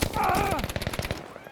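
Rapid gunfire in a multiplayer first-person shooter, a dense burst of close, loud shots filling the first second before trailing off, with players' voices mixed in.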